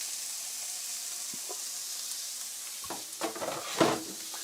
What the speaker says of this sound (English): So it should sizzle, but maybe not that much.